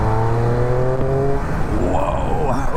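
A Triumph Speed Triple 1200 RS engine revs and shifts while being ridden. The note holds a steady tone, then sweeps upward after a downshift, and no voices are heard.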